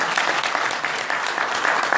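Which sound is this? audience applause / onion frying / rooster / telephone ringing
audience applause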